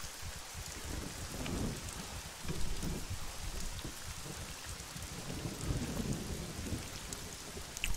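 Heavy rain with rolling thunder during a storm in the video game Scum, a dense continuous wash of downpour with low rumbles underneath, steady and enveloping, with no voices.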